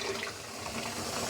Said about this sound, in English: Let's fill the clean water up with clean water.